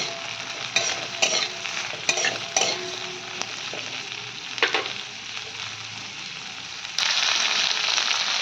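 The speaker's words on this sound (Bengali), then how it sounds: "এবার আমি দিয়ে দেবো ক্যাপসিকামটা। এটা দিয়েও খানিকক্ষণ নাড়বো।" Capsicum sizzles in a pan for chili chicken gravy while a spoon scrapes and stirs in irregular clattering strokes, steady frying hiss throughout that grows louder and brighter near the end, close up with no talk.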